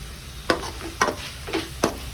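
Onion, ginger garlic paste and a bunch of mint sauté for mutton gravy, a low sizzle broken by four distinct scraping strokes of the spoon about half a second apart, close and clear with no voices.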